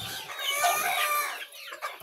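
Chickens cluck and squawk in a rural coop in the Philippine provinces, several close birds overlapping in busy, nasal calls for about two seconds.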